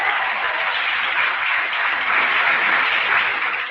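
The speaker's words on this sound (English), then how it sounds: "I don't like the way you're clapping tonight." A rally audience claps steadily, a dense, continuous wash of many hands that stays loud and even throughout, with no talking over it.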